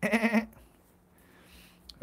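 Goats bleat in a barn with a single loud, close, wavering call at the start, followed by a quiet stretch and a short sound near the end.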